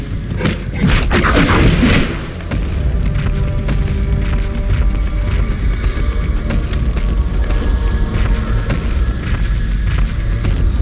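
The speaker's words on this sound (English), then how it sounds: "Unimpressed, the Absolute Evil began to destroy the second sacred stone." Sacred stone being smashed apart in the Dungeons 2 video game: a heavy booming impact near the start, then a dense, continuous rumble of crumbling and crashing debris that stays loud throughout.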